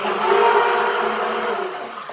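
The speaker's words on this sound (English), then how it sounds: "you can rinse your stick blender without having to go to the actual sink" A handheld blender whirs steadily in water, a loud, close motor hum with a slight churning edge that eases off toward the end.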